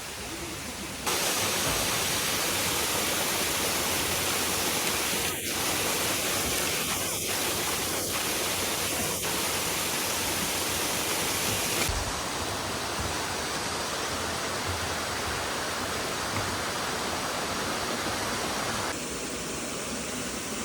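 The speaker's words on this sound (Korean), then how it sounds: "이제 물소리도 들리고 시원함을 느끼게 하는데요." Waterfall and mountain stream in Sogeumgang Valley on Mt. Odaesan roar in a loud, continuous rushing wash close by, with a few faint clicks and small shifts in level.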